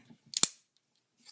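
A Ganzo G-lock folding knife's detent gives a sharp double click as the blade retracts, a close, crisp snap followed by a faint second tick.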